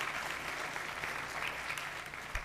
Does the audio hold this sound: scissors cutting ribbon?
no